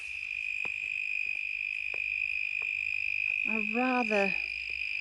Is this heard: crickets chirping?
yes